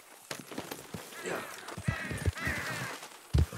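A Western raven in the video game Red Dead Redemption 2 gives harsh caws over the clip-clop of horse hooves, with quiet movement noises and a few heavy thuds between.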